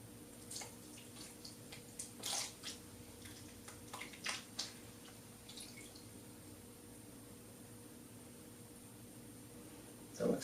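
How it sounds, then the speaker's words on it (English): Shellac being poured into a container for finishing a Black Limba Stratocaster body, heard as faint, scattered liquid drips and splashes in short bursts over a quiet hiss, with no talking. "so now we're going to pour the shellac in"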